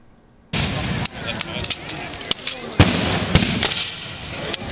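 Historical firearms fire blank ammunition in a string of sharp, loud reports, some close together, over a broad roar of crowd noise and voices.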